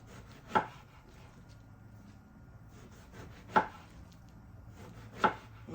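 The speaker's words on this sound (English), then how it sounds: "And I'm going to chop it maybe about 1/2 inch" A knife chops through eggplant on a cutting board in three separate, crisp thunks spaced a few seconds apart, close and fairly quiet, with stillness between cuts.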